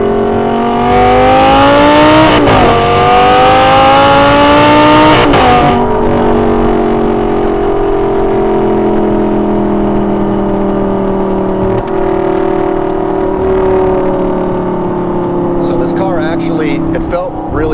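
An Audi R8 V10 with a manual gearbox accelerating hard to merge, the engine climbing through two quick upshifts with brief dips, then holding a loud steady drone as it cruises on, close and dominant throughout.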